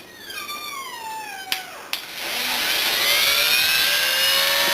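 A die grinder held at minimum RPM works the exhaust port of a Yamaha Blaster two-stroke cylinder: a thin whine sweeping up and down in pitch, two sharp clicks, then a louder steady high-pitched grinding whir.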